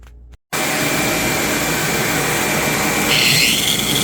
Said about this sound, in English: variable speed grinder with a diamond blade to cut it out